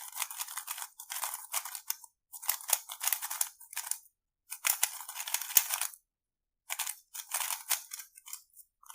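Clicky, crunchy bursts from a MoYu Super RS3M 2022 magnetic speed cube being turned loosely, coming in quick clusters of turns split by short pauses, close and fairly quiet, with no talking.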